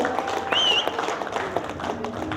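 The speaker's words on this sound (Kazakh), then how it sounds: "Қол шапалақ болып қояйық, өздеріңіздің түлектеріңіз." Audience applause for graduates at a 1987 class twentieth-anniversary reunion in Kazakhstan, a dense wash of clapping under crowd noise and brief voices, steady and moderately loud throughout.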